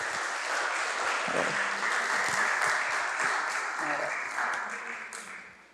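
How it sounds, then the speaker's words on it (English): Attendees at a community police commission meeting applaud themselves, a full, steady round of clapping across the room that holds evenly before fading out at the end. "give yourselves a round of applause for being here tonight"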